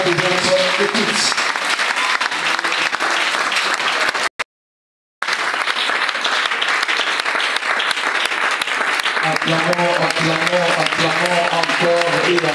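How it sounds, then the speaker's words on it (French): Church congregation bursts into loud, sustained applause and cheering after a sermon, with a short dropout near the middle and a melodic musical tone rising beneath the clapping toward the end. "Acclamons encore et encore."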